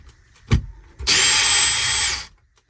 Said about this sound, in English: pull all the screws, get the window out.